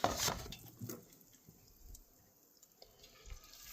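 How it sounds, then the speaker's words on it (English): Hot water runs and splashes into a cooking pan at a lakeside campsite, a soft irregular trickle with a louder gush at the start and faint scraping, heard close and alone. "A little hot water."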